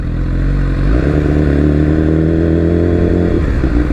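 A CF Moto off-road machine runs over gravel with a close, loud engine drone whose pitch climbs as the revs rise midway, then eases slightly near the end; no talking.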